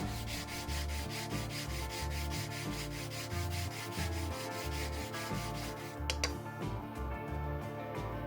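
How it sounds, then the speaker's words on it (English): Steady rhythmic rubbing of sandpaper on a flat surface against the metal blade of a Disston No. 1 butcher saw, a continuous scraping back-and-forth at close range with no talking. "work the flat parts over with some sandpaper that's glued to a flat surface so that it's nice and smooth"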